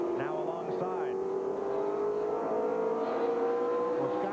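Stock race cars circling the short oval at Greenville-Pickens in a 1995 race; a loud, continuous engine roar with rising revs and cars passing close, under steady commentator talk.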